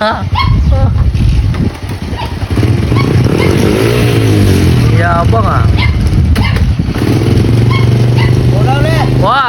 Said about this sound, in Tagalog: Tingnan mo paano magpapaanda ng motor.